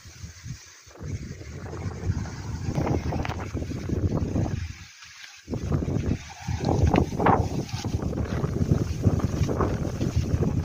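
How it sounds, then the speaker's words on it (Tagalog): Strong wind buffets the microphone in heavy, rumbling gusts, briefly dropping off before roaring back, with faint water or boat noise beneath. "Mahangin ho konti."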